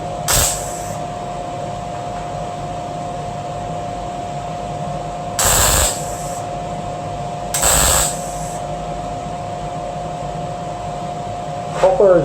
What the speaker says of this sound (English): You're not welding on the copper, you're welding on the steel and you're working your way across